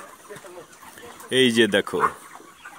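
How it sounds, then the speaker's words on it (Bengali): Broiler chickens on a poultry farm give a short burst of loud clucking close by, heard with someone talking over the quieter flock noise before and after. "তোমাদের দেখাচ্ছি পোল্ট্রির ফার্মে কতটা মুরগি আছে দেখাচ্ছি"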